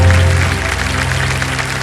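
A studio audience claps on the Kaun Banega Crorepati game show. The applause is brief and loud, running under a strong musical sting.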